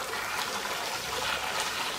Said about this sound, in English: push out water from the other end to kind of rinse it